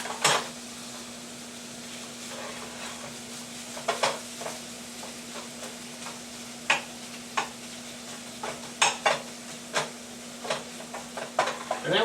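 Scattered scraping and clinking of a utensil against a pan while scoring pork sausage, irregular taps and scrapes over a steady low hum and soft sizzle.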